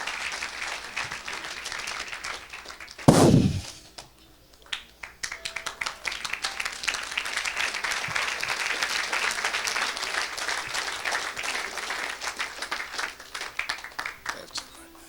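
A church congregation at a Sunday service claps and applauds for Jesus, a steady dense wash of clapping running through the whole stretch, broken briefly by a loud thump early on, with voices mixed in.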